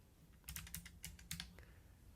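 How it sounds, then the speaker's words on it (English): Typing on a Mac computer keyboard: a short burst of several quick, light key clicks, close and quiet, in otherwise silent surroundings. "So I'm going to type in the word Apple"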